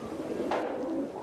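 Pigeons rescued from ISIS coo softly in a steady, close murmur over continuous broadband background noise, with one slightly louder coo partway through; no speech.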